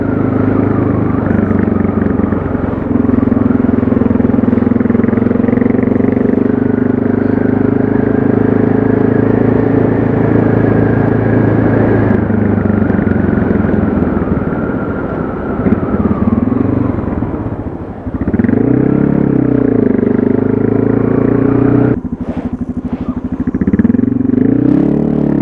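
A motorcycle engine revs hard and holds high toward its rev limiter on a street ride, a loud sustained drone that climbs, dips briefly around the middle and surges again, with faint clatter underneath.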